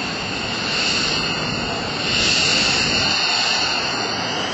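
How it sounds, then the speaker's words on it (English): A Lockheed C-130J-30 Hercules makes a low approach with landing gear and flaps down at the 2006 Westfield International Airshow. Its engines give a loud, steady, broad roar that swells slightly as it passes. "here he comes from the left. Lights blazing, a little bit of smoke trailing, landing gear out, flaps all out."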